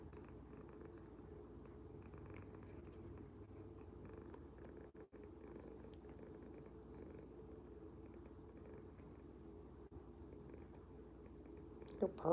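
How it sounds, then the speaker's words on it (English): A cat purrs steadily and close up, a soft continuous low rumble with a faint rhythmic texture, quiet throughout with a brief gap midway and a small noise at the end. "You're purring so hard today."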